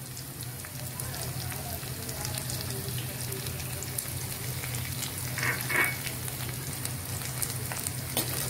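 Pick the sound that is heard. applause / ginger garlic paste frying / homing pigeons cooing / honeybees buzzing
ginger garlic paste frying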